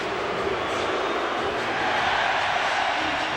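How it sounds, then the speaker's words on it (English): A hockey arena crowd in Philadelphia roars behind Canada during a 1996 World Cup of Hockey semi-final against Sweden, a dense continuous cheer filling the space, building slightly toward the end. "The crowd getting behind Canada here in Philadelphia"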